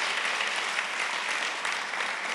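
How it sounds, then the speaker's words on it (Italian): Steady, dense applause from a studio audience on an Italian television show, an even wash of many hands clapping without a break. "facciamo un bel applauso a Daphne"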